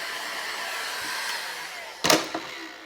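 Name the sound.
heat gun blowing hot air over paint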